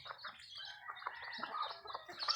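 Pet chickens clucking and chirping close by, a busy overlapping flock chatter that carries steadily throughout, fairly quiet overall.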